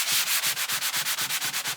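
Sponge scrubbing a surface with Vim or Ajax cleaner, a fast steady back-and-forth rubbing of about a dozen close, even strokes with no voices.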